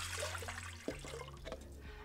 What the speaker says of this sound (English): First, I'm going to put ice water in the bowl.